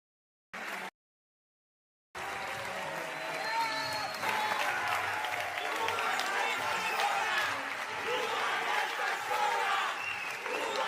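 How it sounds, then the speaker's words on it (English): A crowd gives sustained, fairly distant applause with steady dense clapping and a murmur of voices, after a short clipped burst of sound and a gap of silence. "and applaud themselves."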